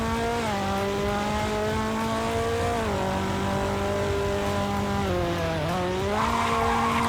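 A car accelerating at high speed, a loud engine whose pitch climbs steadily, dips briefly at gear changes and climbs again, with road and wind noise and no talking.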